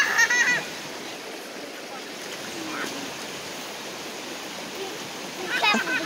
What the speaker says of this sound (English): we're at the river